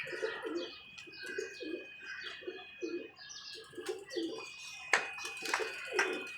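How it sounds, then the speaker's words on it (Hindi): Pigeons cooing on a rooftop, a steady run of soft, low, rhythmic coos repeating close by, with light chirps and a few sharp clicks or wing sounds near the end. "ये नवाज़ भाई के परिंदे"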